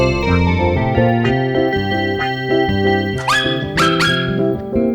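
A puppy yips and barks in short bursts over a cheerful Tamil children's song, the dog sounds standing out clearly above the steady musical accompaniment.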